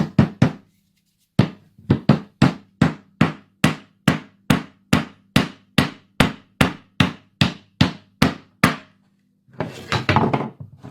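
A hammer made of paper strikes a nail in a steady run of about twenty sharp, evenly spaced blows, loud and close, followed by a brief rustle.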